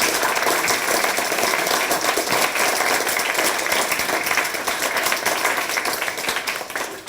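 Sustained, dense audience applause fills the room at a Christmas balloon debate held in a bookshop, steady and loud from start to finish with no talking over it.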